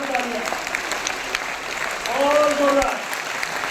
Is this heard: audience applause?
yes